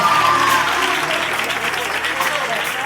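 A church congregation applauding at a service, with broad hand-clapping filling the space and voices calling out over it.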